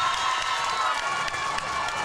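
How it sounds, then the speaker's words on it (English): A hockey crowd roars to its feet as time expires in a sectional quarterfinal, sustained loud cheering and shouting from a packed rink that fills the whole moment without letup. "the crowd erupts to their feet as time expires"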